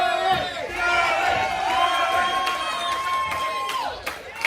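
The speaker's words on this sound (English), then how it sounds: "the crowd love to see Keegan drinking it up here" A wrestling crowd cheers and roars continuously at a live event, with loud sustained shouting and whoops that fill the whole stretch, under a commentator's voice.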